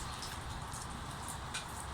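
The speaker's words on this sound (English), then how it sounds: "I have been getting this little bit of spray every once in a while from the rain" Cold, damp rain falls steadily outdoors, a dense, even hiss of drops with faint spray and a few slightly louder splashes, no voices.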